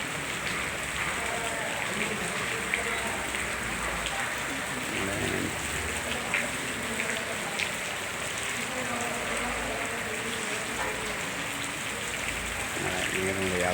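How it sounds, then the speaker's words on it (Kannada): Heavy rain pours down in Gundlupet, a dense steady hiss with scattered drops striking surfaces and running water, continuous and close for the whole stretch with no pauses. "ಈ ಥರ ಮಳೆ ಹೋಗ್ತಾ ಇದೆ ನೋಡಿ."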